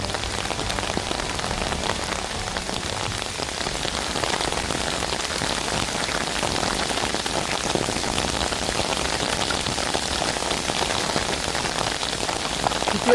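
Hail falls steadily during a storm, a dense, even patter of stones striking surfaces at moderate distance, continuous and unbroken without any talk.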